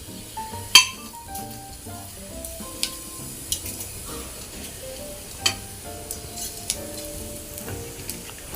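Fennel seeds sizzle softly in hot oil in a kadai, a faint steady crackle under background music, with an occasional clink of a spoon against the pan.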